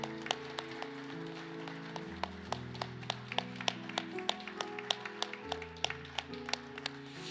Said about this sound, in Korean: 박수하면 다시 한번 박수하도록 하겠습니다.